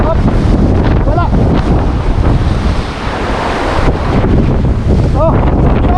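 A strong northeast wind at sea buffets a boat, with steady loud wind rush and crashing surf throughout, a few short shouts and whistle-like cries breaking through near the start and end.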